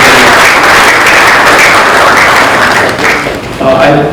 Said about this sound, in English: So please, another round of applause for her